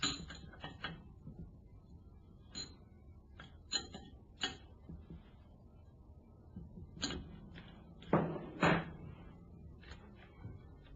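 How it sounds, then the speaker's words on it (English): Screws are tightened to fix an actuator onto a valve during maintenance, producing faint, sparse metallic ticks and ratcheting clicks with quiet pauses between them and a slightly louder cluster near the end. "Tighten the 2 screws fixing the actuator to the valve."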